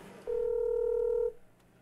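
A single steady telephone ringback tone from an unanswered call to a company's former head, sounding once for about a second, clear and alone, then fading into quiet room noise.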